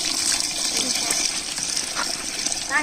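Water pours steadily into a biryani pot, a continuous gushing splash that runs the whole time, close and fairly loud.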